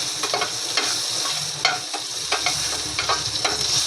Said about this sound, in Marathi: हे बघा, याचं तेल उडते बाहेर.